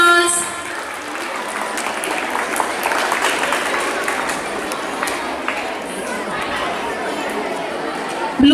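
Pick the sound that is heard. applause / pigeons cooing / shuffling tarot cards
applause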